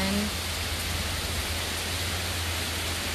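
A steady, loud hiss of heavy tropical rain falls on Meeru Island in the Maldives, heard from a resort balcony in stormy weather, with a low continuous rumble beneath the even downpour and no pauses.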